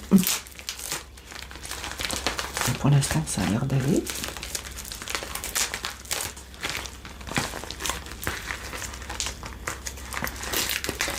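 Plastic wrapping on a small make-up purchase crinkles and crackles steadily up close as the package is opened, while someone speaks softly over it.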